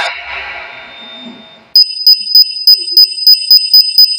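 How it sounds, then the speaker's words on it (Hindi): Beeping bomb from the Poppy Playtime Chapter 4 ending in a video game: after a fading tonal passage, a loud, steady series of about ten sharp electronic beeps repeats at an even rhythm. "ये बीपिंग किस बात की हो रही थी बे? अच्छा ये चैप्टर 4 की एंडिंग वाला बम था।"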